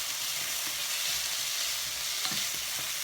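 Vegetables for haystacks sautéing in a pan, a continuous bright sizzle with occasional soft stirring scrapes, close and steady, no one talking.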